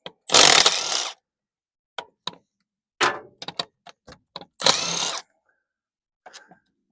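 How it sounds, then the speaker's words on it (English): A 3/8-inch-drive impact gun loosens bolts on a vehicle's transfer case in short bursts: one longer whirring rattle, then a string of quick taps and brief hammering spurts, a second longer burst, and a faint tail. "So I know this is an impact gun, but it's a 3/8 drive."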